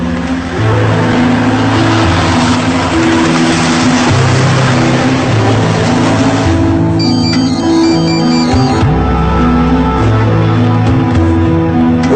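Loud, steady engine drone from inside a moving bus in Brazil, with a continuous low rumble and shifting gear tones throughout; a brief change in engine note near the end.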